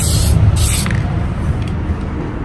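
Black Plasti Dip hisses from an aerosol can onto a Tesla Model 3 18-inch aero wheel, a loud, close spray with a sharp burst near the start that then settles into a steady hiss.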